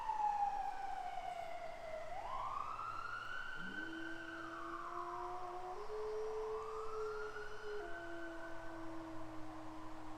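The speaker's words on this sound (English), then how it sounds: "We heard an ambulance come by." An ambulance siren wails, sweeping up and down continuously, fairly loud as it passes an RV park in Oregon, with a lower dog's howl joining in partway through.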